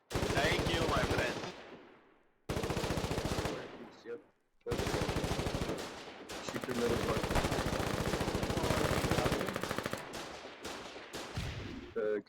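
Machine gun fire in the war game Foxhole, long sustained automatic bursts with short pauses between them, loud and close, with no talk over it.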